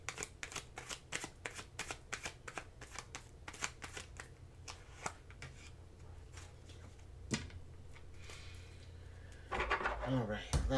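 Tarot cards are shuffled close up in quick, steady riffling snaps, repeated many times, then a denser burst of card handling near the end, with soft talk now and then.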